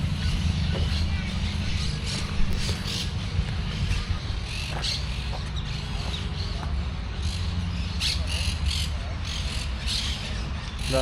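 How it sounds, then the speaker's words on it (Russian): A parrot squawks in harsh bursts over a steady, dense background hiss, with no clear pauses across the stretch. "Да, это попугай."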